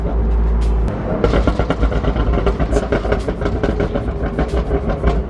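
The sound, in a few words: BMW M4 exhaust pops when lifting off or shifting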